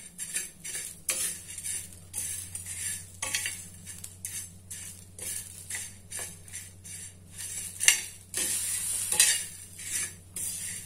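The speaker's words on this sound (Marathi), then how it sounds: "आणि आता घालायचे आपल्याला हे पानं, छान भाजून घ्यायचे प्रथम।" Curry leaves, seven or eight of them, frying in a pan while being stirred, with repeated scraping strokes in an uneven rhythm over a steady low sizzle, close and fairly loud, no voices.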